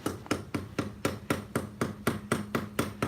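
A screwdriver end taps a truck tire about a dozen times in a quick, even rhythm, each strike a sharp, close thump with no talking.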